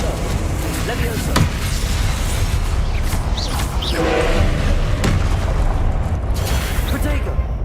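Booming spell explosions from the Confringo spell in the Hogwarts Legacy video game, heavy thuds and blasts layered over continuous game sound and a player shouting spell names.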